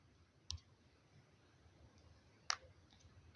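Two crisp, quiet mouse clicks, about two seconds apart, sound against near silence while someone works through a phone or computer app.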